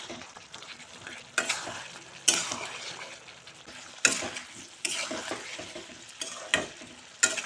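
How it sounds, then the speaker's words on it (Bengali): Turmeric and chili powder sizzling as they are stir-fried with chicken for a dhaba-style masala curry, a close, crackling sizzle broken by repeated loud scraping bursts of the spoon against the pan. "মশলা দিয়ে আবার কিছুক্ষণ কষিয়ে নেব"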